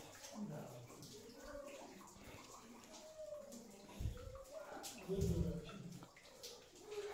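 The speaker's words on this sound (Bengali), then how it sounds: "দেখো ভিতর উপর একটা কন্টিনিউয়াস জল পড়তেছে" Water falls continuously from above inside Mawsmai limestone cave in Meghalaya, a faint steady wash heard under voices speaking nearby.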